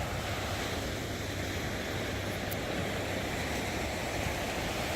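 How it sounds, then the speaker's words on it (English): Steady, loud roar of ocean surf breaking against rocks near an oil refinery and tanker, with continuous wash and wind noise and no voices. "Sometimes we get some nice waves that crash against the rocks there."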